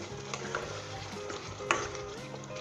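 Mutton frying with ginger and green chilies is stirred in a pan, giving a continuous low sizzle with scraping and clinking of the spoon, without any voices.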